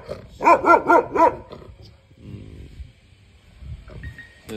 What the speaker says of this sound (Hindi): देखो गुर्रा रहा, देखो